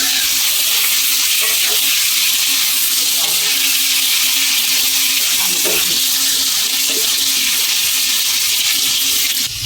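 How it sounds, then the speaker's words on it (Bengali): Potatoes frying in a wok on an induction cooker, a loud steady sizzle with occasional stirring scrapes throughout. "এই যে এখন ভেজে নিচ্ছি, ইন্ডাকশানে করছি"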